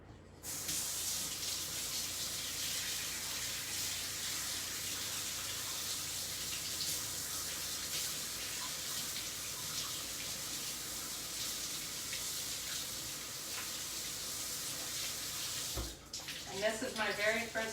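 A kitchen tap runs in a steady hiss as hands are washed at the sink, close and continuous, then shuts off near the end, followed by brief clattering and a voice.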